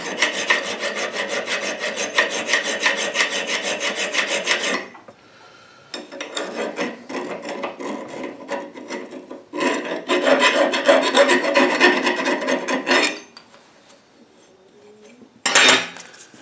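A metal file rasping a burr off a yoke part, steady rhythmic scraping strokes in several bursts separated by short pauses, close and fairly loud.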